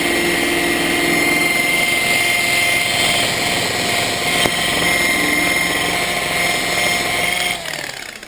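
A rotary polisher runs at 1100 RPM buffing metal with Jet Stream Aviation Products metal polish, a loud, steady close whine and motor drone that stays constant and then drops off at the end.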